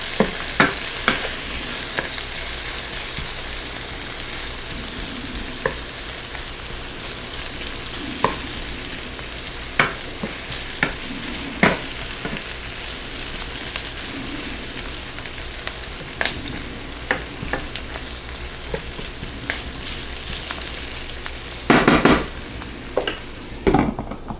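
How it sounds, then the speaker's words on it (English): Onions saute in a hot pan with a continuous loud sizzle, while a utensil stirring them gives occasional sharp scrapes and taps. There is no talk. "The onions are starting to brown up a little bit."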